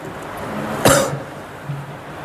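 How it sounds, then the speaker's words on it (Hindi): A single sharp cough from a man giving a spoken religious discourse, close and loud, standing out briefly against quiet room tone. "मुझे भी खांसी आने लग गई।"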